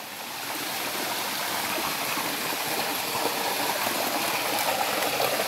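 Steady rushing of creek water flowing over rocks, a continuous broadband wash that holds constant throughout with no voices.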